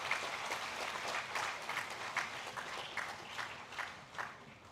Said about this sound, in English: Give a big applause to our Vice Chancellor.